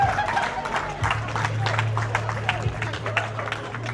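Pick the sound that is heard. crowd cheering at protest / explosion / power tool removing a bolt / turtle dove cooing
crowd cheering at protest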